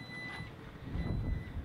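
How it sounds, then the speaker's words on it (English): The power liftgate on a Jeep Grand Cherokee Summit California Edition gives a faint, thin, high warning tone in the first half, heard over a low rumble that grows slightly louder toward the end. "And it'll kind of beep at you, letting you know it's going to come down."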